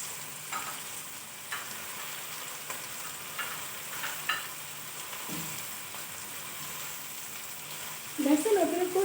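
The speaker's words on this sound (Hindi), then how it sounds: "लहसुन अदरक को जब आप घी में भूनते हैं" Garlic-ginger paste fries in ghee with a steady, soft sizzle, a few light stirring clicks breaking through it. No one speaks over the cooking.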